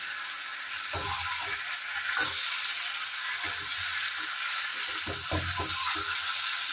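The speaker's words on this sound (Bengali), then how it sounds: "মাংস কষানো হয়ে গেছে, এবার আলু দিয়ে কিছুক্ষণ কষাবো।" Chicken and potatoes are sautéed in a pan for a Bengali-style chicken curry: a constant hiss of frying with several soft scraping stirs in between, close by and with no voices.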